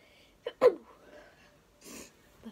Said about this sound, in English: And I need a sneeze.